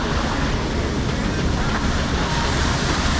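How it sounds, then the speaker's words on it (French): A large waterfall along a night trail-running route in an ultramarathon near Nice roars as a loud, dense, unbroken wash of noise, with some wind on the microphone. "Waouh, méga cascade."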